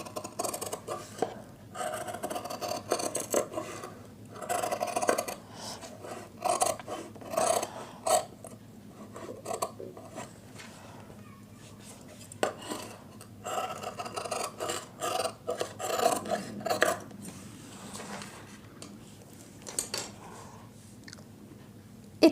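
Scissors snipping through cloth along a drawn curved neckline for a blouse, a series of faint, quiet crisp cuts with pauses between, close up and without speech.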